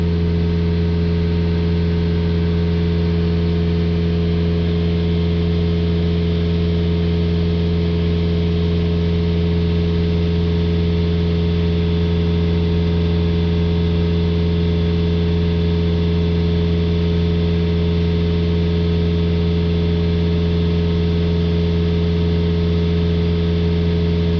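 The 2.0 diesel engine of a Citroën Jumper van with a particulate filter fault runs at a steady idle, a loud, even, low hum and drone that holds unchanged for the whole stretch, with no talking.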